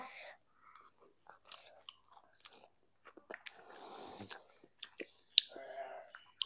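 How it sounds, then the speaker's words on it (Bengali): A child eats hot pasta up close, with soft chewing, small bites and mouth clicks that come in scattered bursts against a very quiet background. "গরম গরম খাইতে অনেক ভালো লাগছে, তাই না?"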